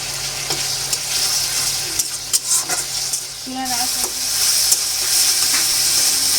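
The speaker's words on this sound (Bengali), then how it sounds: "পেঁয়াজটা এভাবে আমি প্রায় 7 থেকে 8 মিনিট কষিয়ে নিয়েছি" Onions sauté in oil over medium heat, a continuous close sizzle broken by several scraping stirs and clinks of a utensil against the pan.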